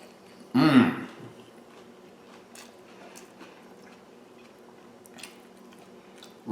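Biting into a fried egg, cheese and salsa sandwich on crunchy buttered toast: one loud crunchy bite near the mic, then quiet soft chewing with faint clicks.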